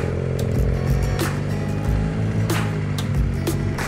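Exhaust note from a mapped 2019 BMW F850GS motorcycle on a test ride, a steady close engine drone with brief throttle blips and a few sharp transients.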